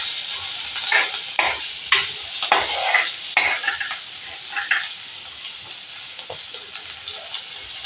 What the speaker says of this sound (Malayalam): നമുക്കൊന്ന് വഴറ്റുവാണ് ഇപ്പം ഞാൻ.